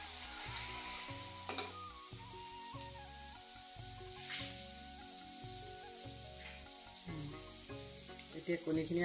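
Sliced onion and green chili hit hot oil in a village kitchen pan and sizzle steadily, a close, continuous frying hiss with a few clatters of stirring.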